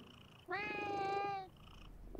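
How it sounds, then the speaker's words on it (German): A cat in the video game Reka gives a single sustained, tonal call lasting about a second, clear and loud over a quiet background. "Diese Katze."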